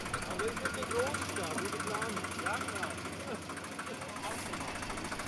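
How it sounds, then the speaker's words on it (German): A tractor engine runs steadily to drive a historic potato digger during a harvest, a low idling drone under people talking nearby. "Die Maschine muss angetrieben werden, das macht der Traktor."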